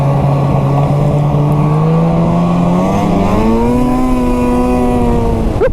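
A Ski-Doo snowmobile engine drones loud and close during a fast ride, its steady tone climbing in pitch as it revs up and holds, with no talking over it.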